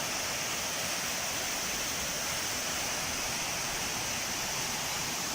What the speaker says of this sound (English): This is probably one of the biggest waterfalls I've ever seen.